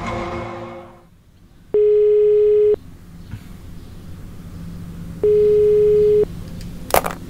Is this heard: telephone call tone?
yes